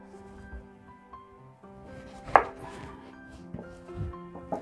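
A knife cutting orange peel into thin slices for homemade marmalade, a series of soft close chopping taps on a board with one sharp crisp cut partway through.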